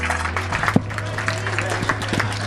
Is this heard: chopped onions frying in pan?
no